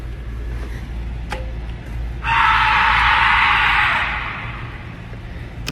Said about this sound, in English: Hearing the sudden, intense scream was simply too eerie for the officers